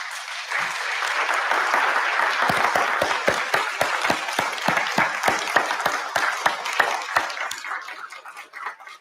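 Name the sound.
audience clapping for new lawyers' supporters at ceremony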